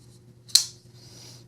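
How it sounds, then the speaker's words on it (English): A single sharp click from a WE Knives Euquivik folding knife, its detent freshly oiled and tuned, snapping as the blade is flicked. The click is close and crisp, and a soft hum sits underneath. "Still a nice click, no detent lash."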